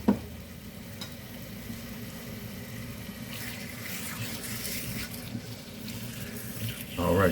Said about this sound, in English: Turn this fire up a little bit. I want that to start to sizzle.